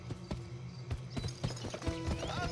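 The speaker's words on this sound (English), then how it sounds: "Press the sprint button to spur your horse." A horse gallops in the western video game GUN, hooves clopping in a quick uneven rhythm at moderate volume, with no talk.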